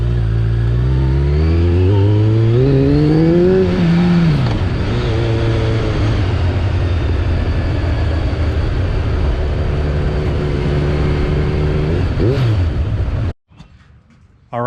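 Kawasaki ZRX 1200R motorcycle engine revving loudly up through the gears, pitch climbing and dropping between shifts, then a steady drone before cutting off abruptly near the end.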